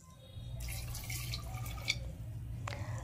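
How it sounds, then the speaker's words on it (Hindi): Water from about two glasses poured into a cooking pot of green pea dal with coriander leaves and salt, a steady splashing trickle running for a couple of seconds, close and moderately quiet with no voices. "और करीब 2 गिलास इसमें हम पानी ऐड कर लेंगे।"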